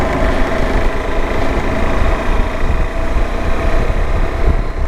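A KTM Adventure 390 motorcycle engine runs steadily as the ride gets underway, a loud, continuous droning rumble close to the mic with some wind buffeting and no talking.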